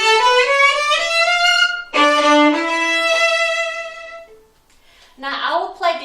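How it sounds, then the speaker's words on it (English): Violin playing a fast octave scale in tune, bowed notes with rich harmonics moving through a few phrases, close and clear, ending with a short pause and a brief final flourish. "it sounds as though you're playing an octave scale fast, in tune"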